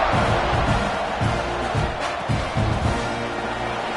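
A stadium crowd roars and cheers before kickoff at an LSU college football game. The noise is a loud, continuous wash of voices, with rhythmic low swells of chanting or band beats rising underneath throughout.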